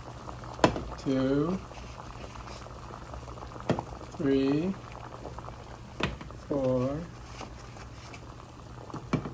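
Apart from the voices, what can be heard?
water boiling in a pot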